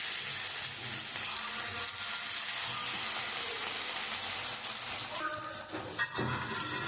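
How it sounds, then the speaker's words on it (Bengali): Rui fish pieces frying in hot oil in a wok, a steady loud broadband sizzle and crackle running throughout, with a brief clatter near the end. "এবার মাছগুলো এক এক করে আমি ভেজে নেব।"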